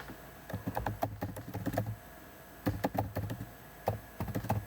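Close computer keyboard typing in quick clusters of sharp key clicks, separated by brief pauses, in a quiet room.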